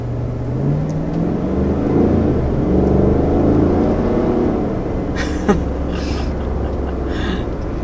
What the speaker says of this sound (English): Definitely launches with a lot more authority.